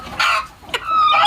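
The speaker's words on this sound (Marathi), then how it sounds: "अंडी घालण्यासाठी इथं बसलेले आहे कोंबडी" A hen sitting to lay eggs gives a couple of close, strained clucks, a brief squawk followed by a drawn-out throaty call, loud and alone without talk.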